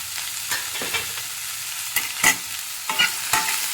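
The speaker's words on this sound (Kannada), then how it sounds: "ಮುಲ್ಲಂಗಿದು ಚೆನ್ನಾಗಿ ಫ್ರೈ ಮಾಡ್ಕೊಳ್ಳೋಣ" Radish fries in a pan with a steady sizzle, and a utensil scrapes and taps against the pan in quick irregular stirring strokes, with no voices.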